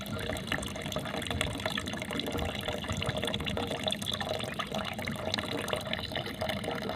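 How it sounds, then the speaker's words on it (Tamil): Water poured to give a fainted animal a drink: a continuous close splashing and trickling of liquid with small drips, steady and moderately loud throughout, with no talk. "பிடிச்சி தண்ணி கொடுத்துட்டு இருக்கிறேன்."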